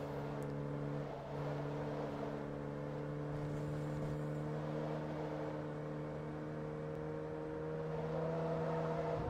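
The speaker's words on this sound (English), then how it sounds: "I really love the sound of this car." A car engine droning in the racing video game Forza Motorsport 2 on the Brands Hatch Indy circuit, a steady sustained hum with little change in pitch, no voices.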